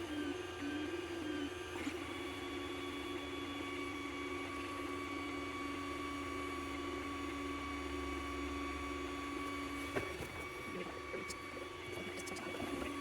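A 3D printer prints a small lizard figure, its stepper motors humming in steady tonal whines with a constant mechanical drone, the pitch shifting briefly partway through.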